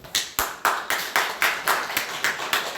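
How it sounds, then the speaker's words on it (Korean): Loud rhythmic hand clapping in a church service, about ten sharp claps in a steady beat, close and distinct with short decays between them. "박수로 환영해 주시기 바랍니다."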